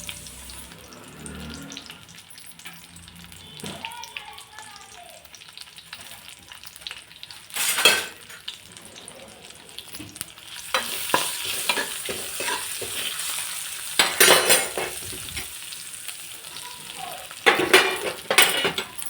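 Onion, garlic and turmeric fry in oil in a pan, a soft continuous sizzle with occasional stirring scrapes, rising to louder hissing bursts later on.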